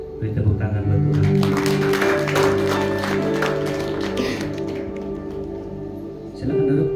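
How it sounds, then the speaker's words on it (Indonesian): Church congregation clapping in applause for God after a hallelujah prayer, a dense steady wash of hands over sustained organ or keyboard chords, fading slightly before the music swells again near the end. "Beri tepuk tangan buat Tuhan."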